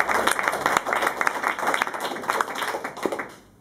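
Audience applause for the winner of the Erasmus Jazz Award at a tribute jazz concert, steady dense clapping from a crowd that fades out at the end.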